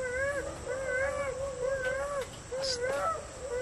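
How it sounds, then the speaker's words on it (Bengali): Wavering, drawn-out wails like a cat crying repeat several times at a moderate distance outdoors at night, with a few faint sharp sounds between them. "মনে হয় বিড়াল আছে না, কান্না করে।"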